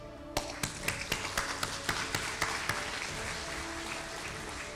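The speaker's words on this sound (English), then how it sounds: "So I give myself an applause." A lone person at an opening ceremony claps about a dozen times in a quick, even rhythm, the sharp claps tailing off into a quiet room.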